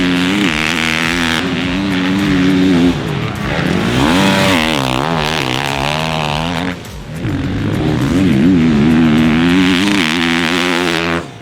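2021 KTM 450 SXF, a 450cc motocross dirt bike, being ridden: a loud, raspy single-cylinder engine that repeatedly revs up and drops off, with one brief pause before climbing again.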